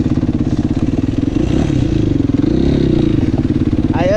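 Dirt motorcycle engine revving hard on an MX track, a loud, close, continuous buzzing drone rising and falling over several seconds with no speech.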